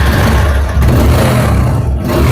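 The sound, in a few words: used motorcycle engine starting and revving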